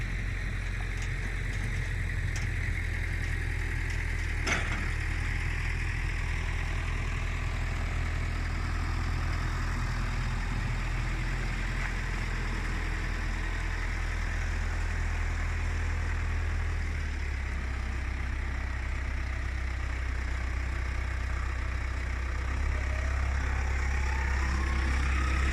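A tractor engine idles with a deep, steady low rumble while backing a trailer to launch a boat into water, continuous and close, shifting slightly in pitch partway through with a brief clank early on.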